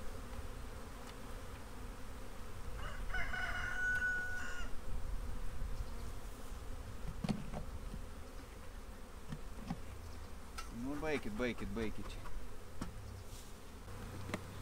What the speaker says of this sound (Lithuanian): Ir lenda atgal tas vapsvas.